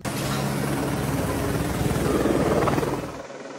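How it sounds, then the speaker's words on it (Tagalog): A police helicopter flies over a compound, its rotor thumping loud and steady before the sound drops away abruptly at the end. "2 helicopter ng pulisya ang namataang lumipad sa ibabaw ng compound"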